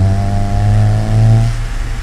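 A BMW E30 drifting, its engine revving up in a strained, buzzy pitch that holds briefly and then falls away, loud and close.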